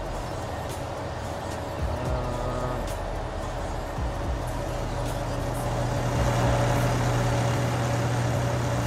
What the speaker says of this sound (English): It's a very loud McCormick, but I'll let it catch up a little bit.